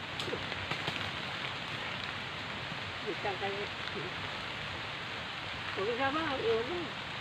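Steady heavy rain hiss fills the background during rambutan picking outdoors, with voices talking briefly over the downpour.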